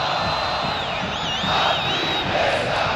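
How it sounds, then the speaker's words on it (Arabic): Zamalek football supporters roar and chant in a stadium after a goal, a dense far-off wall of crowd voices that stays steady throughout, with a whistle-like tone drifting above it. "الجماهير الزملكاويه يعني تشعل الشماريخ وتغني يعني تسعد جدا بهذا الهدف"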